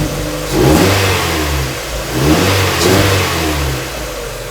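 Mazda Miata NB MX-5 engine running after a throttle body cleaning, idling close by and revved in a few short blips that rise and settle back to idle.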